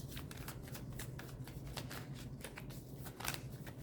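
Tarot cards shuffled by hand in a steady run of soft riffling flicks and slaps, close and continuous with no talking.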